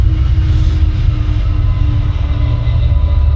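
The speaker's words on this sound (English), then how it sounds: "Another train." A train rumbles past nearby, a loud, continuous low roar with steady rail noise and faint higher whine throughout, heard alone without talk.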